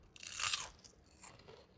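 Close, crisp crunching of fried maitake mushroom being bitten and chewed, one loud bite followed by softer crunches.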